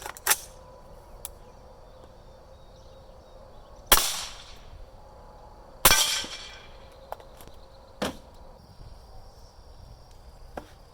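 6.5 Creedmoor rifle rounds striking an AR500 steel plate: about four sharp, loud impacts spaced a couple of seconds apart, each with a bright ringing decay, over a faint outdoor background with smaller ticks between.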